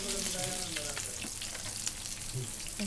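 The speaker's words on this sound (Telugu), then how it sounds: "చూడండి మీడియం ఫ్లేమ్లో చక్కగా ఫ్రై అయిపోతుంది." Food frying in oil over a medium flame, giving a steady, close crackling sizzle throughout with faint stirring scrapes and light kitchen clatter.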